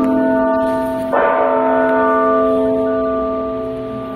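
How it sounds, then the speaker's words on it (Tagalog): A single loud church bell strike at the Basílica de la Sagrada Família in Barcelona rings out and its tone hums on, slowly fading over several seconds with no one talking. "Every 15 minutes, nag-bell siya."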